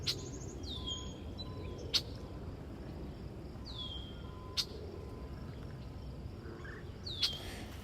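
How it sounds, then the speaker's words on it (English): A bird squawks outdoors near a lakeside angler, three sharp, brief calls spaced a few seconds apart over a steady wind-like background hiss. "There's a bird literally somewhere near me just squawking."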